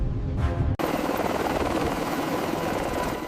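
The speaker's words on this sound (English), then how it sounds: "A helicopter lands on the shipment helipad." A helicopter lands on a modernized WWII battleship's helipad, a loud close rotor thump and engine roar that cuts in abruptly after a brief burst and then holds steady.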